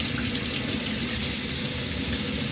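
Hot water runs from a sink tap over beeswax being rinsed, a steady, loud, unbroken hiss and splash that continues throughout.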